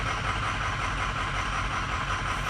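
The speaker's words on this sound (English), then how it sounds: "Multiple cylinder misfires." A 2007 Ford E350 with a 6.0L diesel engine runs with multiple cylinder misfires, a steady close rumbling idle with a slightly uneven pulse, heard alone for a few seconds.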